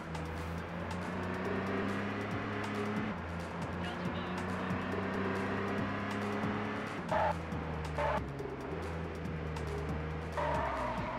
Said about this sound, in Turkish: Birazcık fazla trafik var gibi de.